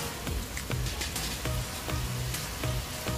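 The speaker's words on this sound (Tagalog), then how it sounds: "Then lalagay na po natin yung ating sibuyas. Then dagdagan po na natin yung ating bawang." Chopped onion and garlic sizzle in a pan for chicken pork adobo, a dense close frying hiss dotted with repeated light spatula taps.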